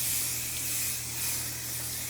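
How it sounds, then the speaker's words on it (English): A continuous fine hiss from a light mist spray on a winter coat, close and steady for a couple of seconds with a soft swell partway through and no talking over it. "It's just a light spray, just like that."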